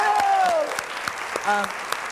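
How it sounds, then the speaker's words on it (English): A small audience at a live comedy show gives the two comedians scattered, sparse claps, with a few distinct hand slaps heard alongside voices talking and a short vocal sound. "let's give them a round of applause"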